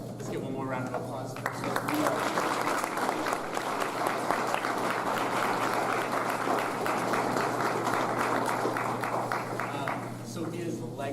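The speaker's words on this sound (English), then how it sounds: "Let's give one more round of applause." Sustained, full applause from a graduation ceremony audience, steady and energetic throughout, a broad wash of many hands clapping together with crowd noise mixed in.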